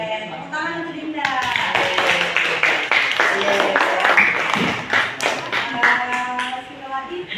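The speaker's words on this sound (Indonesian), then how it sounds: "tepuk tangan untuk Dinda." A group claps energetically for several seconds, with voices talking and calling out at the start and end of the applause.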